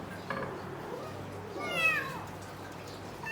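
A pet cat meows once in a short, rising and falling call, fairly close, over a steady background hiss with faint household noise.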